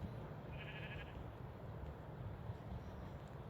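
Sheep bleating in Minecraft, a short synthetic bleat early on over a steady game background hum, fairly quiet, with no talking.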